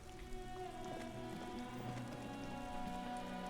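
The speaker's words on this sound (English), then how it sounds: "This rain will not let up anytime soon." Steady rain pattering on surfaces in the video game Disco Elysium, a continuous even downpour with faint tonal ambient hum underneath and no voices.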